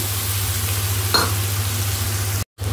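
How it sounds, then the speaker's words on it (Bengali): Spices being stir-fried with browned onions in a pan give a steady sizzle with one brief scrape of stirring, over a low hum, briefly cut off near the end. "এবার আমি মশলাটা দিয়ে ভালো করে কষিয়ে নেব।"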